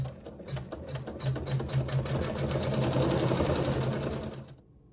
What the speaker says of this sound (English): we'll sew some quilting and a satin stitch over fabric 3